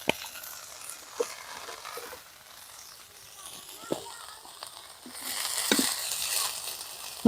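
Bitter gourd fries in oil seasoned with chili powder, salt and turmeric, giving a steady, moderate sizzle with a few sharp utensil clicks. The sizzle swells louder and brighter near the end.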